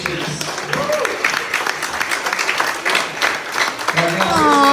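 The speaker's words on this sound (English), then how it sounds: "let's give a round of applause for all those amazing speeches" A ceremony audience at a bowling hall of fame induction gives a round of applause, dense clapping and cheering that swells and stays loud throughout, with a few voices calling out over it.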